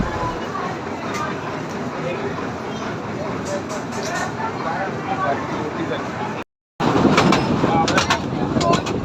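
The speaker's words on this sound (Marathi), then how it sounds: "आम्ही मुलांबरोबर टॉय ट्रेनमध्ये बसलो." A ride aboard the small toy train that runs from the jetty on Elephanta Island near Mumbai: a steady rumbling rattle of the moving carriages with crowd chatter throughout, briefly cut off before resuming louder.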